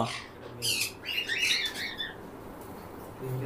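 Lovebirds at a breeding farm squawk and chirp in shrill, busy bursts, fairly close, fading to quieter calls toward the end.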